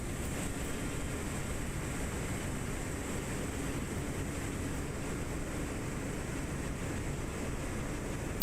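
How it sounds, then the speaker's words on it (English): Airbus A340 engines spooling up on the ground in Microsoft Flight Simulator 2024, a steady, broadband whooshing roar with a faint high whine, constant and unchanging, no voices present. "Okay, our engines are coming to life."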